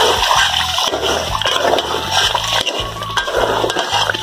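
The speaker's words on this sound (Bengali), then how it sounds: "এখন হলো এই যে দেখেন মাংসটা দিয়ে দিচ্ছে, কারণ মশলাটা কষানো হয়ে গেছে" Meat goes into a village cooking pot of fried spice paste, giving a continuous loud, close sizzling and splattering with wet, bubbling crackles throughout.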